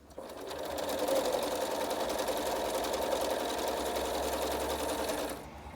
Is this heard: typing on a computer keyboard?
no